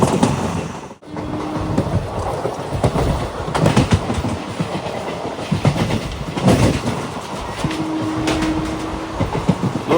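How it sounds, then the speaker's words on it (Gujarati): A train running past Nazarbagh railway station on the Bhuj–Rajkot line, a continuous loud rumble with clickety-clack wheel rhythm and brief squealing tones, steady throughout without speech. "આ ટ્રેન આપણી નજરબાગ ક્રોસ કરે છે"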